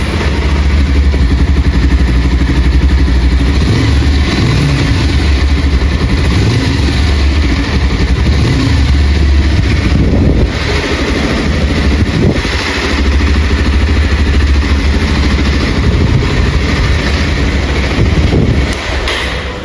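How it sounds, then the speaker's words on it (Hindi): A Bajaj Pulsar 220F motorcycle engine idling up close, loud and steady, with a continuous low throbbing rumble for about twenty seconds and no talk over it. "तो मोटरसाइकिल का आप साउंड भी एक बार सुनो कि कैसी आवाज़ है इस मोटरसाइकिल की।"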